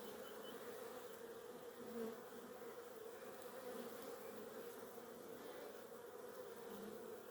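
Bees buzz steadily around single- and double-story beehives outdoors, a soft, continuous, faint hum with no voices.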